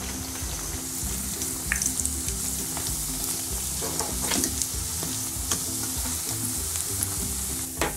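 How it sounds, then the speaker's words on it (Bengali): Mixed vegetable pakoras frying in hot oil, a steady close sizzle and bubbling with occasional stirring clinks and scrapes, continuous throughout without talk. "এগুলো আগের মতন করে ভেজে উঠিয়ে নিব"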